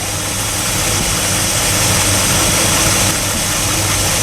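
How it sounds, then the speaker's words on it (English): A Dodge Tradesman van's 318 V8 engine idles steadily and loudly with a low rumbling drone and constant hum, running evenly without revving. "So this is our van engine"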